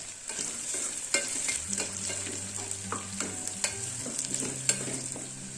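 Cashews frying in oil in a pan for mint pulao, a continuous close sizzle with scattered spatula clicks and scrapes over a low steady hum.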